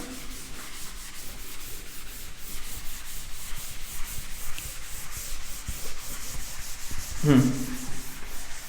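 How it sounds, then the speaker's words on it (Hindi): A chart on a classroom chalkboard being wiped with an eraser, a steady scratchy rubbing that runs for several seconds, close and moderately loud, with one brief louder scrape near the end. "मैं इसको रब कर रहा हूं।"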